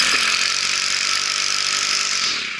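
A weed eater runs with a loose internal shaft rattling against its housing. The result is a loud, harsh, buzzing drone held steady and close for a few seconds, easing slightly at the end.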